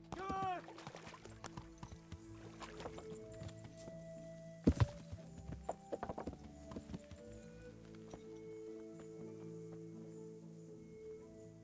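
Horse hooves clip-clop at a steady pace in the medieval game Kingdom Come: Deliverance, with a sharp thump midway and game music and ambience underneath.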